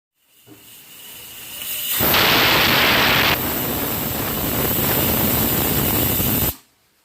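A pressure cooker on a gas stove vents a loud, steady jet of steam for several seconds, rising abruptly and cutting off sharply, harsh and close.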